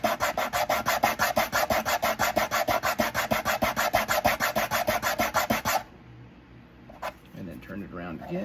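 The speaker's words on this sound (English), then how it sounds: "you're going to sand this forward and backward between the F-holes" A violin bridge for a 4/4 violin scraped back and forth on 120 grit sandpaper, a fast steady run of rasping strokes that stops abruptly, followed by quiet handling noises and a faint voice.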